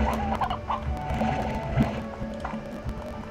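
Chickens in the game Slime Rancher give soft, scattered clucks over a low ambient game background, quiet and intermittent across the few seconds.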